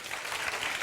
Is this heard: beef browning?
no